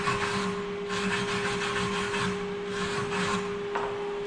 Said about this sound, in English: that weld's going to scrape right off